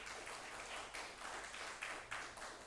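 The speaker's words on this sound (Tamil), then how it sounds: "அரங்கமே கைதட்டுங்கள், அரங்கமே கைதட்டுங்கள்" Audience applause at a Tamil poetry recital, a dense crackle of many hands clapping in waves, steady and moderately loud, with no talk.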